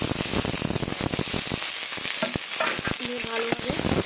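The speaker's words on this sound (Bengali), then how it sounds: "এবার ডুমুরগুলো ওর মধ্যে ছেড়ে দেবো" Figs dropped into hot oil for a Bengali fig chachchari sizzle and crackle loudly and steadily, with clattering stirring of the pan through the whole stretch and no talk.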